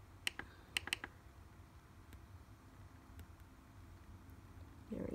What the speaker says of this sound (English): And then just type in all of the letters for your puzzle.